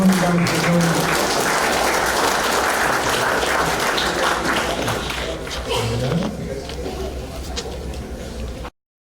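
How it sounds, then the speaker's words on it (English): A crowd at a Hall of Fame induction ceremony applauds the inductees. The clapping is sustained and fairly loud, with a speaking voice over it, and it thins out before cutting off near the end. "We can get a round of applause for these guys, ladies and gentlemen."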